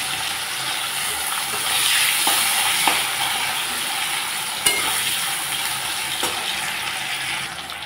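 Potatoes fry in hot mustard oil tempered with black cumin, giving a loud, steady close-up sizzle with a few faint clicks of stirring.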